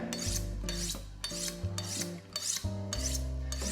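A knife is drawn along a sharpening steel in six steady, rhythmic rasping strokes, close and fairly loud, with no voices over it.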